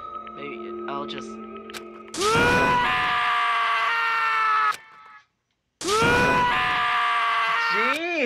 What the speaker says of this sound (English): As Taka's sad scream invaded our skull